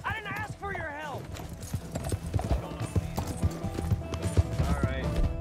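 Horse hooves clip-clopping during horseback riding in Red Dead Redemption 2, a steady close trotting rhythm under game music and voices, with a brief whinny near the start.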